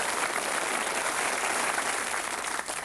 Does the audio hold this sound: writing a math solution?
no